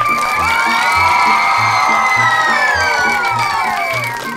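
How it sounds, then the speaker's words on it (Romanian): A studio audience at a Romanian comedy show cheers, whoops and applauds loudly and continuously, with shouting voices layered over steady clapping. "Hai să aplaudăm."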